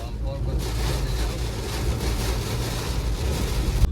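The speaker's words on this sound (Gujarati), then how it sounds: "પવન વધારે છે વરસાદ કરતા" Strong wind roars over a car driving through rain, a heavy, steady low rumble with a constant wash of noise and buffeting throughout.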